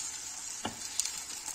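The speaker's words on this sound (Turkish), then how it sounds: "Sadece altını kızartıyorum." Erzurum Şenkaya-style cheese kavurma fries in a pan, a steady close sizzle with a few soft stirring scrapes and no talking.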